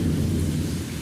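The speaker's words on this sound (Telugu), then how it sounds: "ఈ వర్షాలు చాలా పడితే ఒక కుంభవృష్టిలా పడుతున్నాయి" A heavy downpour, a torrential monsoon-style rain, pours down in a dense, steady roar with a low rumbling undertone, loud and close with no voices.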